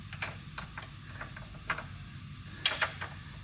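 Ratchet clicks while turning a 21 mm nut on a Mercedes-Benz front lower control arm in tight clearance near the steering rack: a run of short, light mechanical ticks with one sharper burst near the end, close and fairly quiet.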